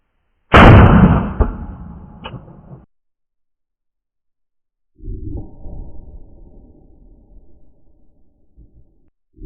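A Sig P365 pistol fires a single loud shot into ballistic gel, with a sharp blast that decays over about two seconds, then a quieter stretch of rustling and handling noise.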